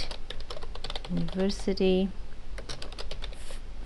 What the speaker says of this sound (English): I'm going to type in here My Course Banner